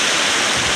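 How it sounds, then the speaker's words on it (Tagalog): Strong current of the Marikina River during heavy rain, a loud, steady rushing roar of water with no break, close and dense. "Malakas yung agos ng tubig, oh."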